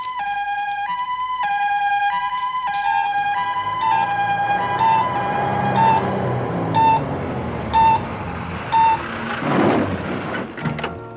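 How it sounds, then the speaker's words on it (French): Ambulance siren wailing in a repeating two-tone pattern at moderate distance, gradually fading as rumbling traffic noise grows beneath it. "Vite, faites venir l'ambulance."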